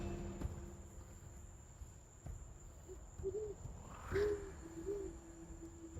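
Owl in the Amazon rainforest at night giving a few soft, low hoots spaced apart, fairly faint against a steady high drone of crickets and insects.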